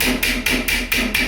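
Butterflied pork loin being pounded flat with a meat mallet for a Puerto Rican stuffed pork dish: five evenly spaced, loud, close thuds in quick succession, with no talking.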